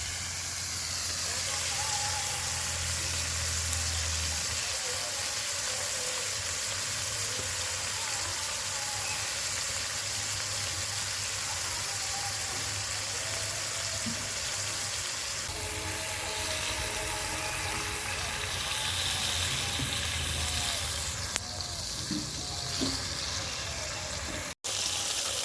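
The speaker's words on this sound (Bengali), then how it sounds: "মাছ ভাজা হতে থাক" Fish frying in oil in a pan give a steady broad hiss and sizzle that runs on evenly, with faint kitchen clatter now and then.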